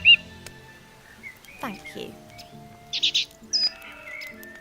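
Short, bright bird chirps and whistles come from a small bird in The Book of Unwritten Tales game, spaced apart over quiet background music, with a brief spoken voice near the start.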